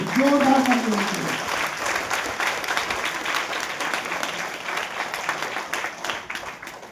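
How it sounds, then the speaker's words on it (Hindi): Audience applause at a motivational talk: sustained clapping from a large crowd, moderately loud and steady, with a short voice rising over it at the start before the clapping carries on alone. "मैं दिल से चाहूंगा जोरदार ताली"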